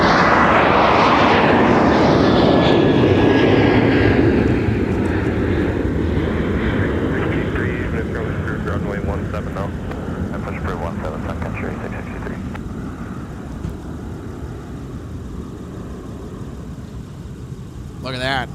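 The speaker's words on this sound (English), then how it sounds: "We have yet another Sun Country departing off runway 30 left" A Sun Country airliner roars down runway 30 left at Minneapolis–Saint Paul airport on departure, a loud, broad, steady engine rumble that slowly eases and fades as it climbs away.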